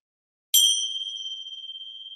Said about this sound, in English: let's have the bell